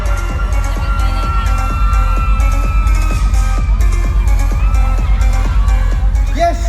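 A theater audience at a live show at the New Frontier Theater cheers and shouts loudly and continuously, with a dense, close crowd roar and scattered sharp bangs and whoops throughout.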